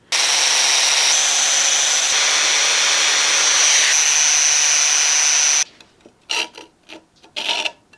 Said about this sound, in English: So I'm gonna try to grind those flat so that that'll sit nicely there.